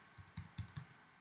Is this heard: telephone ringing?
no